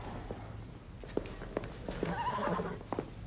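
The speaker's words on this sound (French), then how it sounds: "Il est splendide ce cheval." Thoroughbred horse heard faintly nearby, with soft irregular hoof steps and shuffling over a quiet background.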